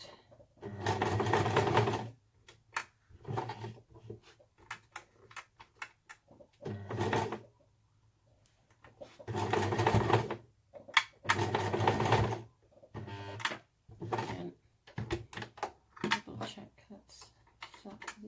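A domestic sewing machine stitches through a bulky beauty pouch, running in several loud bursts of rapid mechanical whirring separated by pauses, with a brief reverse to secure the seam; quiet handling noises fill the gaps.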